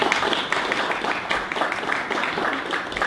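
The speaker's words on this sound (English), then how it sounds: "let's give Don Kline a big round of applause and welcome him to LA2M" An audience at an indoor talk applauds to welcome a speaker, a dense, even wash of many hands clapping that holds steady without a break, moderately loud in the room.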